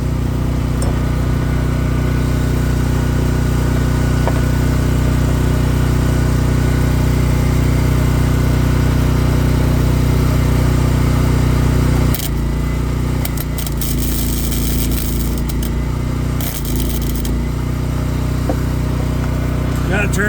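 A portable generator runs steadily nearby in a workshop during welding on a 2014 Ram, a constant mid-pitched engine drone that shifts and roughens near the end, with some speech over it.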